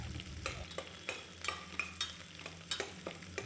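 Onion frying in hot oil with mustard seeds and spices in a cooker, a steady sizzle broken by repeated scraping stirs at an uneven rhythm, close and clear with no talk.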